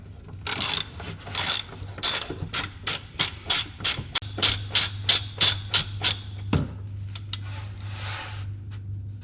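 A ratchet on the 11 mm hex nuts at the rear of a Jaguar S-Type's fuel tank clicks in a quick run of about fourteen sharp, evenly spaced strokes over a steady low hum, then falls quiet.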